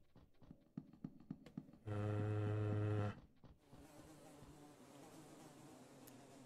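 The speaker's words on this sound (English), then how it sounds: "You can hear a sound of wasps or flies somewhere" Insects like wasps or flies buzz in the dark horror game Fear & Hunger 2: Termina, with a loud sustained drone in the middle after scattered clicks, then a fainter hissing hum.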